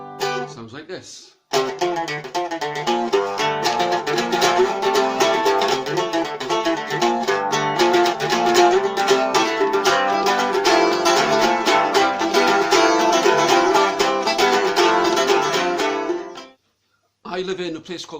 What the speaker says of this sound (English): this instrument, which is called a mandolin or a mandola. It sounds like this.